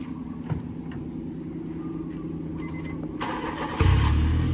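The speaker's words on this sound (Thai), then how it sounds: "รถสตาร์ทเครื่องติดเลยครับผม เครื่องยนต์เดินนิ่งเนี่ยครับ" A 2009 Honda City engine cranks and catches, then settles into a steady low idle rumble; quiet mechanical background beforehand.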